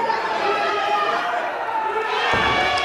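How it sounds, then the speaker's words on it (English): A wrestling crowd cheers and roars loudly and continuously at a live independent show, a dense wash of voices and shouts with a sharp thump near the end. "Crowd's going nuts."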